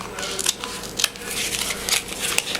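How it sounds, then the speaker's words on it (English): Scissors snip through paper to finish cutting an opening for a picture frame insert, a few close, crisp cuts in an uneven rhythm. "you can use your scissors if you want,"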